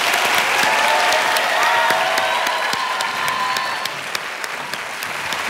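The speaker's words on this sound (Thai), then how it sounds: "เดี๋ยวพี่ๆเขาจะปรบมือให้หนูเสียงดังมากเลยเป็นกำลังใจให้อ่ะ" Sustained, loud audience applause for a child singer at a Thai children's singing competition blind audition, dense and steady before easing slightly toward the end.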